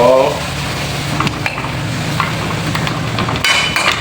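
Vegetables and canned fish stir-fried in a pan, with steady sizzling and the scrape and clink of a utensil against the metal, plus a few sharper knocks near the end.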